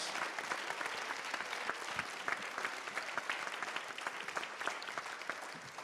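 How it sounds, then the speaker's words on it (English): Audience applause for the mayoral candidates at a nonpartisan Oakland mayoral candidate forum at Laney College: dense, steady clapping from a sizable crowd, sustained throughout without talk over it. "Can we give all of our candidates a round of applause?"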